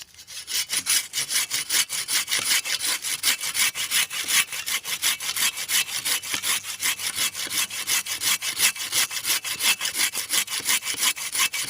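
A curved hand saw cuts through bamboo in a fast, steady back-and-forth rhythm, each stroke a rasping scrape, close and continuous throughout.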